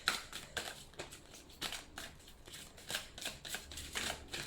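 A deck of tarot cards is shuffled by hand in quick repeated riffles, soft papery flutters in an irregular rhythm, close and fairly quiet, with no talk.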